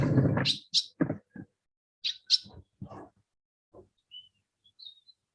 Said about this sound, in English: The sounds of nature all around us, the birds and the roosters.